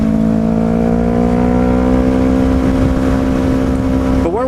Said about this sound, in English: with this cold weather, the bike just wants to go